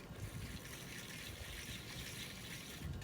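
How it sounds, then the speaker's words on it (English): Water is squeezed from a sponge onto clay spinning on a pottery wheel, a faint continuous wet trickle and splash heard alone against a low steady hum. "I'm going to squeeze some water in there."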